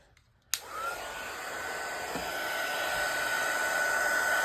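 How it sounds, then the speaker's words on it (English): A hair dryer clicks on and blows a steady, loud whirring stream of air to dry glue on a paper craft journal, its pitch holding constant after startup. "I guess I'll dry the glue a little bit too."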